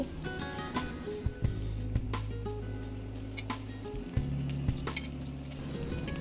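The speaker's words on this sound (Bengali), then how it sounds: "এবার আলুটাকে কিছু সময় একটু ভেজে নিয়ে তারপর আমি ফুলকপিগুলোকে দেব" Cut potatoes frying in oil in a pan for a cauliflower curry: a steady close sizzle with occasional clinks and stirring scrapes, no voices.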